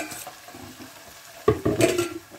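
Fish fillets dropped into hot oil and stirred in a pan, a quiet sizzle that swells into louder frying with a scrape of the utensil partway through.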